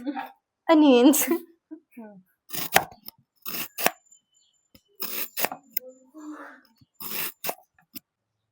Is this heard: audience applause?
no